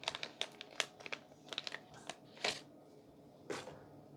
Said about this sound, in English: Let's open it up real quick.